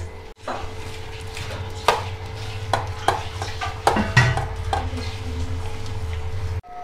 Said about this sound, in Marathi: आता हे सर्व मिश्रण आपण मिक्स करून घेऊ